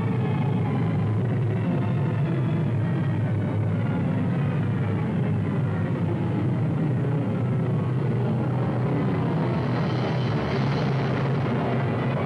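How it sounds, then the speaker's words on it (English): A B-17 bomber in flight gives a steady, loud low drone of piston engines with broadband rumble, holding without pause throughout and never interrupted by any voice. "One B-17 found his target and leveled off."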